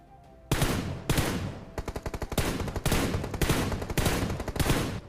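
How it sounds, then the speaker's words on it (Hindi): Gunfire in the battle royale game PUBG: several loud close bursts of automatic fire, including a rapid run of evenly spaced shots, separated by brief gaps. "फिर मुझे कुछ फायरिंग का साउंड"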